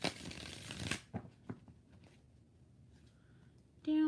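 A deck of tarot cards riffled in a burst of dense crackling flutter for about a second, followed by a few softer taps as the cards settle, all close and fairly quiet.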